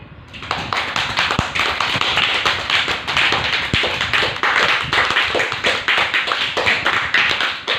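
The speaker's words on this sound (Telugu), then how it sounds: "గట్టిగా క్లాప్స్ కొట్టండి" A group in a meditation session claps hard and fast in a steady, sharp rhythm, many palms striking together loudly and continuously.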